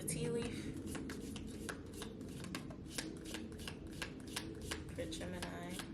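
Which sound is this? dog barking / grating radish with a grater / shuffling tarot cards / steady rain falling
shuffling tarot cards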